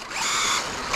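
The transmission of an RC car whines as it pulls away at an RC meet at Domaine Bois de Rose, a close, high mechanical whine lasting about a second and swelling at the end.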